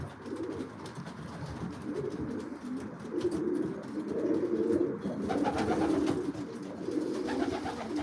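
Racing pigeons coo steadily from their perches in a loft, soft overlapping low murmurs rising and falling close by, with faint rustling and no talk.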